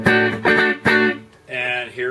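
A white Fender American Deluxe electric guitar on its neck pickup strums a few sustained chords, each strong attack ringing out warm and clean, close and loud with no other sounds.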